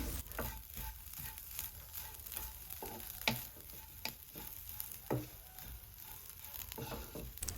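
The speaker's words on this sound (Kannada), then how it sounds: "ಹಾಗೆ ಅರ್ಧ ಕಡಿ ಕಾಯಿ ತುರಿ, 1/4 ಸ್ಪೂನ್ ಅರಿಶಿನ ಹಾಕಿ ರೋಸ್ಟ್ ಮಾಡಿಕೊಳ್ಳಿ" Grated coconut and turmeric roast in a pan, giving a quiet, even sizzle broken by a few sharp taps and scrapes of stirring, with no talking.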